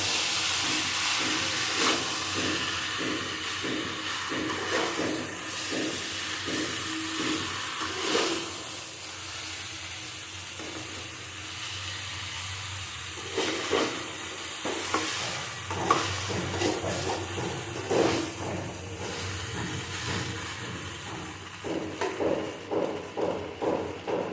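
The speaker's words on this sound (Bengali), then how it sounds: "এর মধ্যে নাড়তে থাকবো একটু সব কিছু মিশিয়ে দেবো" Vegetarian vegetable chow mein with boiled noodles is stirred and fried in a pan, with continuous sizzling under steady clacking and scraping strokes of a utensil, the rhythm loosening briefly before picking up again.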